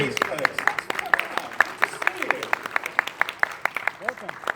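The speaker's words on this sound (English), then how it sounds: "Huge round of applause for these folks." Fan convention crowd giving a round of applause, dense clapping with sharp individual claps standing out, a few cheers mixed in, and a voice talking over part of it.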